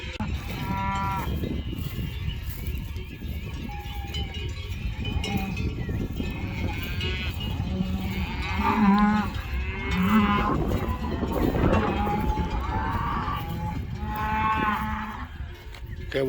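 Cattle lowing repeatedly at close range on a Spanish farm, several deep moos rising over a steady outdoor bed with faint clanking cowbells and occasional voices nearby.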